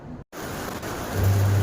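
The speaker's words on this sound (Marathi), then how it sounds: "पाऊस खूप पडत असल्या कारणाने मी बाहेर बसले आहे" Heavy rain pours down as a steady, dense hiss, close and constant apart from a brief cutout, with a low rumble swelling near the end.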